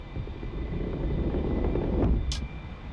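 An A-4E-C Skyhawk jet engine at full thrust in the DCS flight simulator roars as a steady, loud, low rumble, with a brief higher whoosh near the end.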